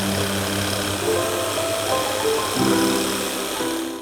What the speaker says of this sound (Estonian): märgi joon puidule ja lõika tikksaega välja